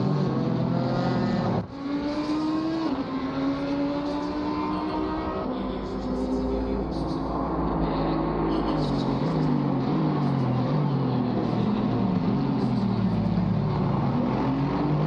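GT4 race cars, a Camaro and an Aston Martin, racing at the COTA circuit, engines droning and shifting pitch continuously at close range as the cars run through the laps.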